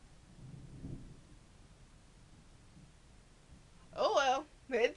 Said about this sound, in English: it's thundering, so we might get a thunderstorm up this way